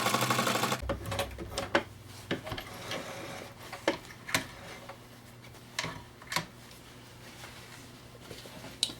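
A sewing machine stitches a zipper onto fabric for a small pencil pouch, giving short, uneven clicks and taps over a low steady hum, with no talking.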